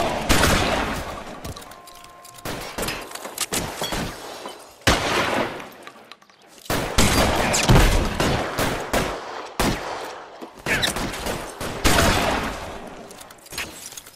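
Video game gunfire during a bank shootout in L.A. Noire, bursts of rapid automatic fire and single shots with breaking glass, loud and close with short pauses between volleys.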